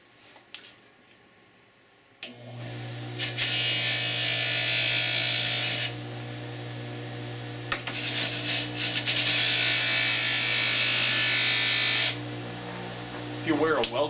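Whirring rotary power tool polishing an electroformed copper ring, a steady high buzz that starts abruptly, pauses once, then resumes, with talk underneath.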